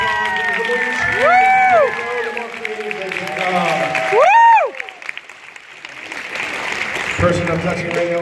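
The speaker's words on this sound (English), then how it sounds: "All right, give it up for them, folks. No. Next round of applause." A lively crowd at a hypnotist stage show claps and cheers for volunteers, with loud whoops and shouted voices rising over the applause and excited calls breaking through in bursts.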